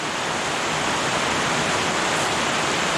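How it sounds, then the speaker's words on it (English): Heavy rain pours hard and steady on a camping setup beside a Vistabule teardrop trailer, a loud, dense, unbroken hiss with no voices. "the sky's opened up and it's raining like all hell"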